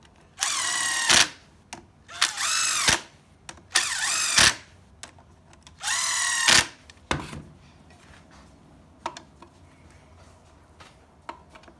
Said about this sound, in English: 3 clicks with a rattle gun.